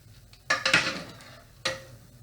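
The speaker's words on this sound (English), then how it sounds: "So you want to go ahead and just scoop all of those carnitas out." A ladle or spoon scraping and clinking in a pot as cooked carnitas are scooped out of their liquid, a few distinct metallic scoops close by with no one talking.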